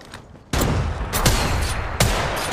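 Gunfire rings out in Apex Legends Mobile as sudden loud volleys of shots begin after a brief quiet moment, with sharp repeated bursts sustained through the rest of the moment.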